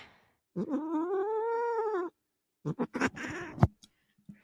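An agitated orange house cat that keeps trying to get outside gives a long, drawn-out yowl, then after a pause a burst of sharper, choppy meows and cries, close and fairly loud in a quiet room.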